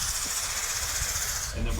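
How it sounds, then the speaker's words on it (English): Western Maryland Scenic Railroad steam locomotive 1309 releasing a loud, steady hiss of steam, with rumbling machinery underneath and a shift in tone near the end. "1309 is back in action, taking its first steps under steam in 64 years."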